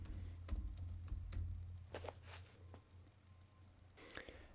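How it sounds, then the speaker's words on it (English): Computer keyboard keys tapped in a short run while entering a search for a WordPress plugin, a few quiet clicks spaced over a few seconds, then a brief burst near the end, no voices. "Over in the search bar, type in Easy Google Fonts."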